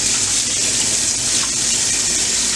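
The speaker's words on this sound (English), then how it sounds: "I'm going to just drain this and rinse it well under cold water to stop the cooking" Cooked pasta drained and rinsed under cold tap water in a kitchen, a steady, full rush of running water that pours without a break from start to finish, with no talking.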